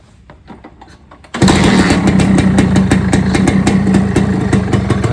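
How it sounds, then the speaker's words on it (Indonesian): A two-stroke Suzuki Satria motorcycle engine is kicked into life after a few quiet knocks, then runs loud and close at a steady, buzzing, rattly idle with rapid pulsing firing beats, no talking. "Jadi sekarang kita hidupin dulu aja Satrianya."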